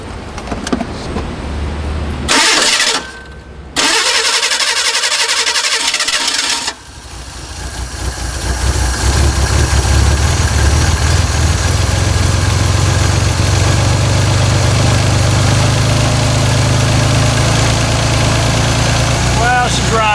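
A Ford Bronco II with a 2.8 V6 that struggles to start cranks briefly, then catches and runs with a loud, rough, steady roar close by, with a voice talking over it.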